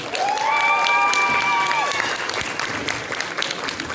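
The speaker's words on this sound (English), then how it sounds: "Everybody give a round of applause for our guests here." An audience gives a loud round of applause for guests at a live stage event. The clapping is mixed with cheering and a few whistles and fades slightly toward the end.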